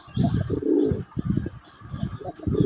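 Pigeons of a black-headed, white-spotted fancy breed coo close by in a series of soft, throaty rising-and-falling calls, with a faint high background tone and no speech.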